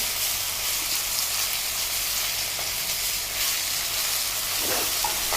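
Minced mutton being sautéed in a pan, a dense, steady hiss of frying close by with faint scrapes of stirring running underneath, and no one speaking.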